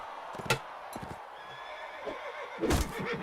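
A horse whinnies twice in short bursts in the video game Mount & Blade: Warband, moderately loud over a steady background hum, with faint clip-clop-like knocks in between.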